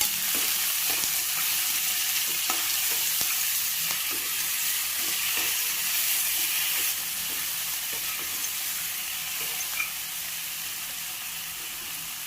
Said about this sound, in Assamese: এয়া মোৰ বিলাহীখিনি ভাজা হৈ গৈছে।